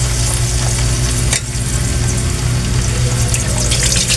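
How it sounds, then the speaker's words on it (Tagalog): Pili nuts fry in hot oil in a wok, giving a continuous dense sizzle and crackle, loud and close. A brief stir cuts in partway through, then the steady frying resumes. "Hayaan po muna natin siyang lumutong sa mantika bago po natin siya lagyan ng asukal na brown."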